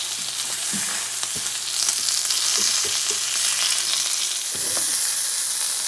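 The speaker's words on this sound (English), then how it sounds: "On the cast iron, no butter, no grease, just using the bacon on its own" Bison bacon frying in its own fat on a cast iron pan with no butter or grease, a loud, steady close-up sizzle with scattered pops and crackles and no talk.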